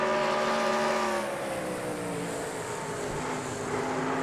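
Stock race cars lap New Hampshire in a racing video game at about 130 mph, a loud whining engine drone whose pitch bends down as the cars pass, steady throughout.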